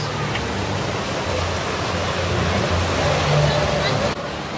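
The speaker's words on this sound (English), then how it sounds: "I love that waterfall." A waterfall on the Expedition Everest theme park ride, heard as a steady, close, full roar of rushing water with a low rumble underneath and faint voices in the background.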